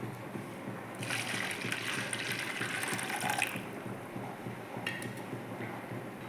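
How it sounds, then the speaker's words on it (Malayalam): Coconut milk pours into freshly strained tea in a soft, continuous splashing trickle lasting a couple of seconds, over quiet room background. "ഇനി ഇതിലേക്ക് തേങ്ങാപ്പാൽ ഒഴിക്കാം."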